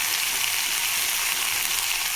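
Ground garlic chutney sizzles in hot oil with mustard seeds in a pan, a continuous bright, hissing crackle held close and steady throughout, with no voices.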